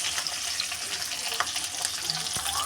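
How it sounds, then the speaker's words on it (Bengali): Capsicum fries in hot oil in a wok, giving a bright, constant hiss with small crackles and a soft knock near the end. "এবার এই তেলে ক্যাপসিকাম দিয়ে দিচ্ছি।"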